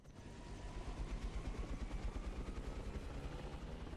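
A helicopter in GTA Online, its steady rotor thrum and engine drone filling the clip, loud and continuous with a pulsing low beat and no talking.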